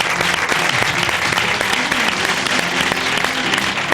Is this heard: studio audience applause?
yes